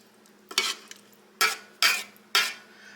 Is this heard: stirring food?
yes